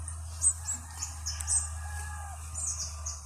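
Baby bird chicks chirp faintly in a nest in a guava tree, thin high peeps scattered through the clip over a steady low hum.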